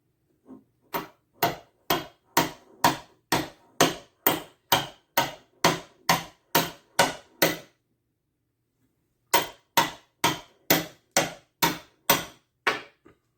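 Light hammer taps on a ring resting on a small flat steel anvil block, about twenty sharp, evenly spaced metallic strikes in two bursts with a short pause between, close and clear with no talking.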